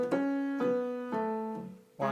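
Piano tutorial passage played as a short melodic phrase of sustained notes, each attack clear and ringing, about four notes in steady rhythm, close and moderately loud, with no talking.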